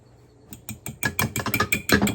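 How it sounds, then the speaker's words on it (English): A fork whisks an egg in a bowl, starting with a few scattered taps and building into rapid, rhythmic clicking and scraping strokes against the dish, close and fairly loud with no talking. "I'm going to whisk my egg"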